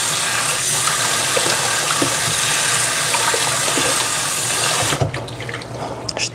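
A kitchen tap runs hard into a sink to soak a dish, a loud steady gush that cuts off near the end, leaving faint drips and clinks.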